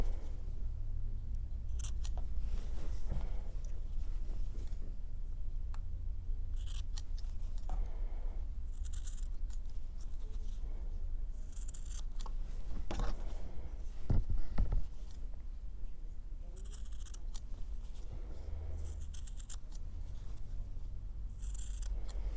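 Repeated sharp scissor snips cutting small bits of fabric, irregularly spaced, close and fairly quiet, with small handling rustles between cuts and no talking.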